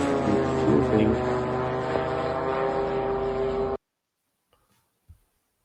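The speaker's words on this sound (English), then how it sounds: "So this is a type of drone." Steady droning buzz of a propeller drone in flight, loud and continuous for several seconds and then cut off abruptly, leaving near silence with a couple of faint knocks.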